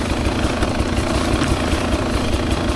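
A 2024 Beta 300 RR Race Edition dirt bike engine drones loudly and steadily, close by, as the bike climbs a steep hill in second gear, with no talking.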